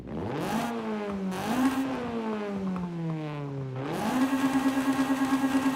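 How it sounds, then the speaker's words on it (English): Stock-exhaust Honda engine from Forza Horizon 5 revving up and easing off a few times, then settling into a sustained high rev with a pulsing buzz, loud and close. "I'm gonna leave the stock exhaust on, just because it sounds so original."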